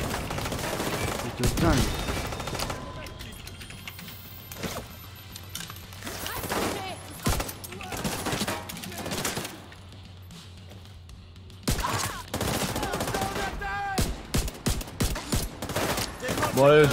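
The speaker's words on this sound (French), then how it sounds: "Oh, le bruit qu'il fait, mon sniper!" Sniper rifle shots in a video game crack out as sharp, loud single bangs scattered over several seconds, some in quick clusters, with gameplay noise and a person talking between them.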